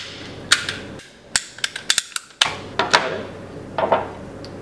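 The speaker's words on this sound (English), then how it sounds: "we use a reamer to bevel the edge and also expand the tip" A reamer bevels and expands the cut end of a flexible composite pipe, a faint scraping and rasping broken by a cluster of sharp clicking knocks, with quiet pauses between bursts.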